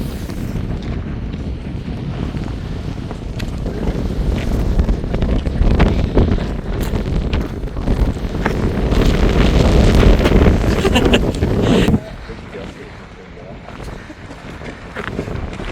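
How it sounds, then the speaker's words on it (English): Strong wind buffets the microphone at a canyon overlook in Utah's national parks, a loud continuous roar that swells toward the middle and drops abruptly near the end, with people talking briefly beneath it. "Windy."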